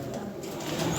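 A Lahori Sirazi pigeon coos softly in a short, low, murmuring burst, close by and fairly quiet against faint background noise.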